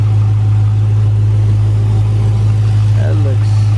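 A Dodge Charger R/T with a 5.7 engine and a ported 6.1 SRT intake manifold idles steadily up close, a loud, constant low hum, with someone talking briefly near the end.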